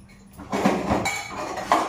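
Dishes, pots and pans clatter and clink close by as tableware is set out in a home kitchen while a wok heats, with several sharp metallic knocks and rattles over about two seconds and no talk.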